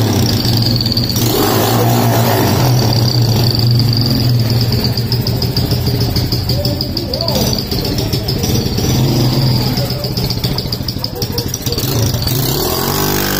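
A 2008 Honda Fan motorcycle fitted with a 220cc OHC engine runs steadily close by, its mid-pitched engine drone continuous throughout, with brief swells as it is revved and people talking over it.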